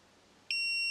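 Soojook SJ-935 32 mm electric pruning shears give a single sharp, clear electronic beep that starts abruptly after a moment of quiet and holds steady to the end.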